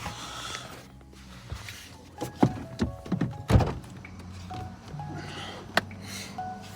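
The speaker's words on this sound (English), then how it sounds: "So let me open this door." A door swings open in a warm room, with several distinct thunks and clicks of the latch and frame rising over a steady background hum, close by, with no talking.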